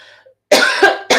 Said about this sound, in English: I always start coughing at this part.